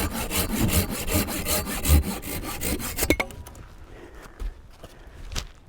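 An axe works wood at a remote island campsite, with a fast run of rhythmic scraping strokes for about three seconds, followed by scattered sharper knocks and pauses.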